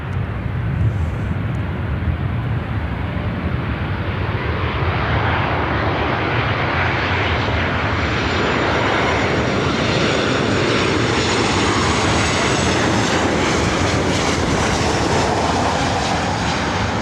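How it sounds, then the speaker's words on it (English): A Southwest jet arriving from Seattle at LAX roars past at close range, a loud, steady broadband engine rush that holds for the whole stretch without fading. "It's the flight coming in from Seattle."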